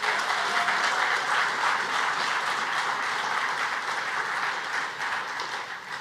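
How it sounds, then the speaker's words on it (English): Audience at a trade and investment forum gives a round of applause, a dense, steady wash of clapping from many hands that holds evenly and begins to fade only at the very end. "A resounding round of applause."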